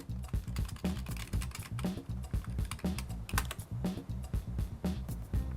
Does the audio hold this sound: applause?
no